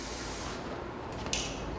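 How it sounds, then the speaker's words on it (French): A canister of water sprays in one steady, close hiss that ends with a faint click of the nozzle. "il a donc décidé de ramener l'employé afin qu'il asperge lui-même la femme qui l'a aspergé."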